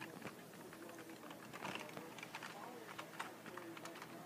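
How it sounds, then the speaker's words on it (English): Quick, light clicks of typing on a computer keyboard during a Rocket League match, faint and scattered in uneven bursts, with soft talk in the background. "he's typing"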